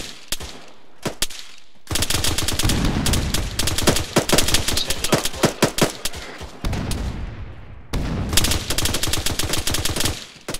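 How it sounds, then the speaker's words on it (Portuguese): Heavy gunfire in the Arma 3 video game, with loud bursts of automatic fire and rounds striking a vehicle, coming in dense volleys broken by short pauses. "Tiro batendo meu veículo aqui."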